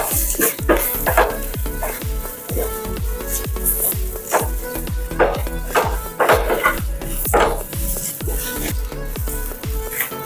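Minced beef fries with onion masala in a pan for beef cutlets, a continuous sizzle broken by regular, fairly loud scraping stirring strokes in a steady rhythm, close up and without speech.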